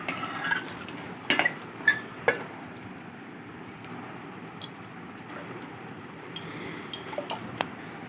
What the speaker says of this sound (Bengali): জলের মধ্যে আগে মুসুরির ডালটা দিয়ে দেবো